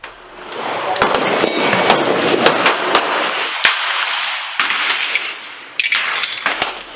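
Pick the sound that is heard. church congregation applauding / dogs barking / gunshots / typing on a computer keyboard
gunshots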